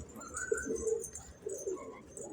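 Domestic pigeons coo softly in a loft, with low, throaty calls repeated over a quiet background.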